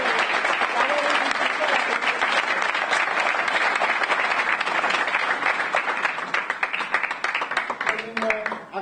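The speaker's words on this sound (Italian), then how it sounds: "volevo chiedere ai miei compagni un applauso per la dottoressa che ci ha proprio sopportato" Steady, dense applause from an audience of inmates at a book presentation held inside a prison, continuous and loud throughout with no pauses.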